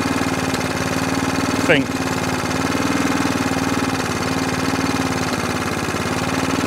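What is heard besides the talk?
Qualcast 35S cylinder mower engine idling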